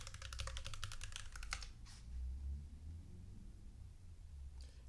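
Fast keystrokes on a computer keyboard as a query is typed into a search bar, a dense clicking burst over the first two seconds, then a few isolated taps against a low background hum.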